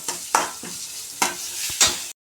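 Cabbage stirs and cooks in a pan, a soft steady sizzle broken by about four sharp scraping strokes of a spoon against the metal, then a sudden stop.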